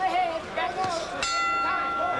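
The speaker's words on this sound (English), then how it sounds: "a bell ending round number 2." A boxing ring bell sounds to end round two of the middleweight bout between Roberto Duran and Robbie Simms, one bright sustained ring under loud arena crowd noise and commentary.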